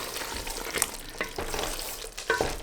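Chicken curry gravy stirred in a hot pan, a utensil scraping and slopping through the thick sauce in a few quick strokes over a soft sizzle, close and fairly loud, no voices.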